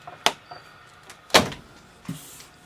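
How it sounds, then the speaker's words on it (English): A door is opened with a few separate clunks and a latch-like rattle, close by and fairly quiet, with short pauses between the knocks. "I'm going to open the door"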